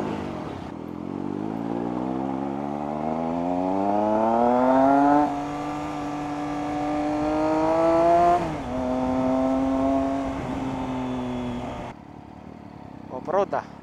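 A Yamaha MT-09 motorcycle engine rises steadily in pitch as it revs, then holds and dips a few times before cutting off abruptly. It is loud and close at an outdoor motorcycle bazaar.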